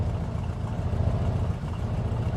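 Ferndale car engine in the game My Summer Car, a low rumbling drone with a slight pulsing throb, held steady while the car is driven slowly.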